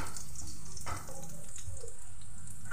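Potato pieces frying in hot oil for a Bengali dhoka dalna, giving a steady, soft sizzling hiss that stays even and close throughout with no talking.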